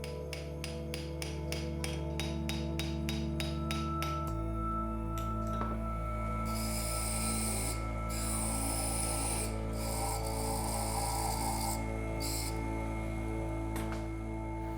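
A steady motor hum runs throughout, with intermittent bursts of high grinding as a spinning copper wheel cuts into glass, engraving it.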